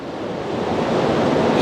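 Water from a city sewage drain rushing and flowing, heard as a loud, steady hiss and roar that builds slightly toward the end, with no talking.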